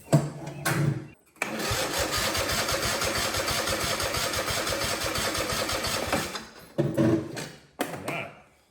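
A $50 barn find engine cranking over on a weak battery: a short click-and-crank burst, then about five seconds of continuous rapid chugging cranking, followed by two more brief cranking attempts, all loud and close.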